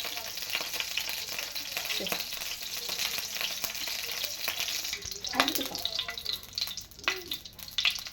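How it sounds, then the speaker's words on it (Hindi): Chicken seekh kebabs fry in a little oil in a frying pan, giving a steady close sizzle and crackle throughout with occasional scraping as they are moved. "कबाब को करेंगे फ्राई और थोड़ा सा ऑयल डालेंगे।"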